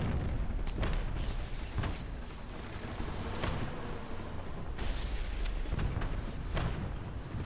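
Artillery fire in War Thunder, with a series of sharp booms and blasts repeating every second or so over a constant rumbling battlefield background, fairly loud and without talk.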